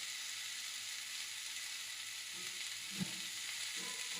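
Sprouted mung beans fry in a pan with spices such as chilli and turmeric, giving a soft, continuous sizzle with a brief stirring clink near the middle.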